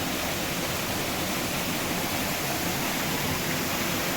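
A loud, continuous rush of falling water from the Bognon waterfall in the Belluno Prealps fills the whole clip, a dense, unbroken roar with no pauses.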